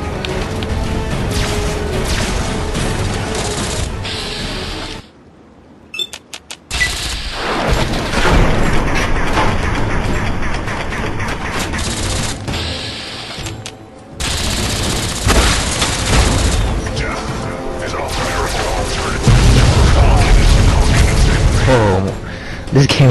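Explosions and gunfire rumble through a Fallout 3 battle alongside the giant robot Liberty Prime, loud and nearly continuous with heavy low-end booms and a brief lull around five seconds. Voices talk over the din.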